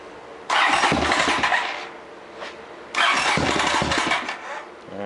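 A Honda CX500 motorcycle gets two separate starter attempts, each a grinding crank lasting about a second and a half with a pause between, and the engine does not catch.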